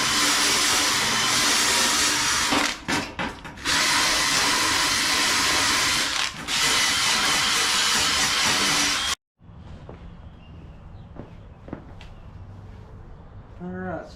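A power tool scours rust off parts for a 1955 Chevy restoration, making a loud, harsh, continuous whirring hiss broken by two brief pauses. It cuts off abruptly, leaving quieter workshop clatter.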